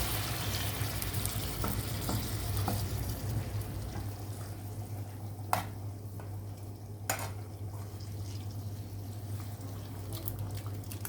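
Frozen spinach sizzles in a hot pan with a garlic tasha, a steady close frying hiss with crackle running throughout, broken by a couple of sharp utensil clicks partway through.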